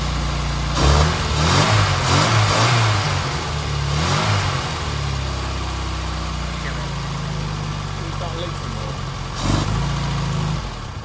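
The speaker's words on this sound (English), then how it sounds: "we can conclude that the engine runs pretty well" An Austin Maestro engine, running after standing 19 years and smoking slightly, idles and revs steadily nearby, with a couple of louder surges in throttle, a low rumbling drone throughout.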